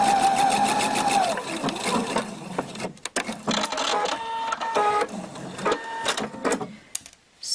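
A Husqvarna Viking sewing machine fitted with an invisible zipper foot stitches a seam in rapid mechanical bursts separated by brief pauses, with faint handling noises between runs.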